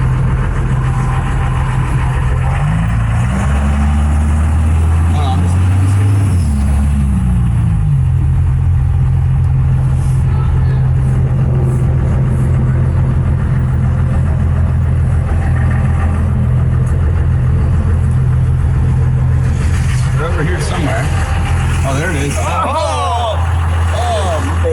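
A Dodge Daytona wing race car, treated, caged and tubbed, runs with its fuel turned up, a steady loud low engine drone with a brief pitch sweep early on, while people talk over it throughout.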